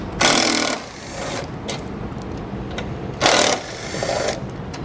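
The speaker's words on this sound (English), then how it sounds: "13mm socket. We're going to remove the 2 hex head bolts for our exhaust hanger." A power tool with a 13mm socket spins out the hex head bolts of an exhaust hanger on a 2018 Chevrolet Volt, two loud whirring bursts close by, separated by quieter clanks and rattles.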